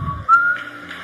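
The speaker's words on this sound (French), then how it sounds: "Tu sifflotes même." A person whistles a short, bright tune, a few sustained notes held close and clear, alone without speech.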